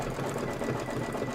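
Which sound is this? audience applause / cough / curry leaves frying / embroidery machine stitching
embroidery machine stitching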